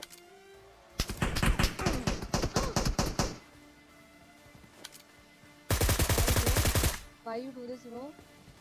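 AKM assault rifle in the mobile game BGMI fires two long automatic bursts of sharp, loud rapid shots separated by a quiet pause, with brief game sounds trailing at the end.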